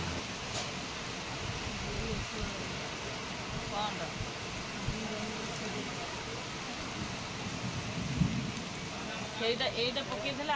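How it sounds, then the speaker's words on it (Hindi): Heavy rain pours steadily during a slow train journey, a dense continuous wash with low rumbles of thunder, close and loud throughout. "बहुत जोर वर्षा घड़घड़ी बिजुली बहुत जोर से होची।"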